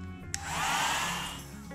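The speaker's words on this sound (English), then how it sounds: "Do you want to hit it with the hair dryer and dry that up before we try to glue it?" A hair dryer blows with a steady, loud whooshing roar after a brief click, its pitch holding firm before easing slightly at the end.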